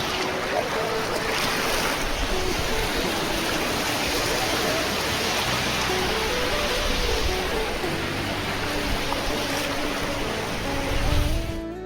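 Sea waves wash in continuously on open, empty Bakkhali beach, a loud, broad surf roar with a faint tonal hum drifting through and a louder swell near the end.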